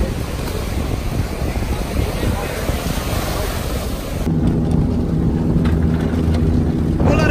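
Surf and waves wash along a beach in the Dominican Republic, a steady broad roar that carries strong wind buffeting on the microphone and shifts midway as the wave wash becomes louder and fuller.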